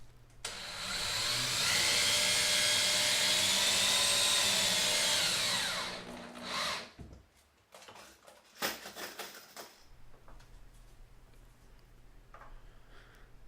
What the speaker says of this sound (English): once to drill the holes and once to put the screws in